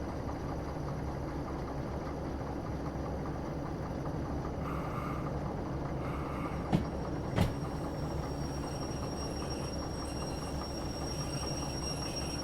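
A freight train rolls along in the railway simulator game Derail Valley, a continuous low mechanical rumble with two sharp metallic clanks partway through and no talking.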